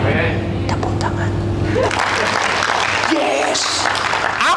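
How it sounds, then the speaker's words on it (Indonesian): Applause from a church congregation at a Saturday sermon, a broad sustained clatter of many hands that swells after the first second and carries on steadily to the end, loud and close, with a low steady hum beneath. "Tepuk tangan."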